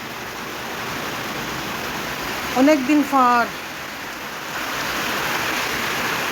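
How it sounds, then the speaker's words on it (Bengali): Steady rain falling outdoors in a forest setting makes a continuous even hiss, with a voice speaking briefly over it midway. "বৃষ্টি আসছে।"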